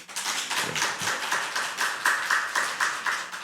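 Congregation in a church clapping for a member, a quick steady patter of many hands in a regular rhythm, moderately loud and fairly close with no talking.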